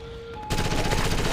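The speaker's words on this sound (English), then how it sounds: "firing his grenade launcher into that building" Combat in the video game Ghost Recon Advanced Warfighter: after a quiet moment with a faint tone, a grenade launcher and other weapons break into loud, dense, rapid gunfire that continues to the end.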